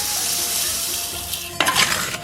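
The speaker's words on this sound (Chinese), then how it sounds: "把米粒石炒得热热的" Small rice-grain stones being stir-fried in a hot wok for a pork skin hot pot, a dry sizzling hiss with a faint hum, then a burst of scraping, rattling stone-on-metal clatter near the end.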